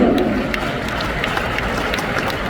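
An audience at an Amway recognition event in Kuala Lumpur claps in a steady, dense wash, moderately loud and sustained for the whole stretch.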